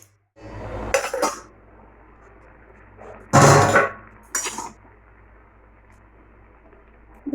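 A metal lid set onto a cooking pot on a Bengali home kitchen stove, giving a few sharp clanks and clatters with quiet pauses between them.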